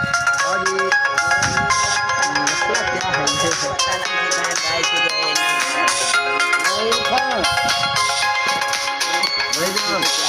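A mobile phone ringtone from an incoming call plays loudly and continuously as a melodic tune in a home, while people talk over it.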